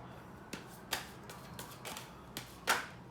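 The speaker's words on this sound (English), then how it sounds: "I'm gonna shuffle this once." Faint, quiet shuffling of a tarot deck, soft irregular card riffles and taps scattered across a few seconds in a quiet room, without speech.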